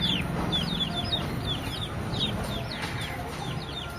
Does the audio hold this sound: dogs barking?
no